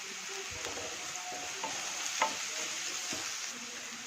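Garlic stirred in a frying pan, giving a steady soft sizzle with scattered scraping and tapping touches from the utensil throughout, close and fairly quiet.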